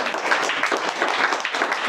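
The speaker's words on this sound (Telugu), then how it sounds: "చప్పట్లు కొడతారు ఒకసారి." Audience clapping together at a church talk, a dense steady burst of applause heard close and fairly loud throughout.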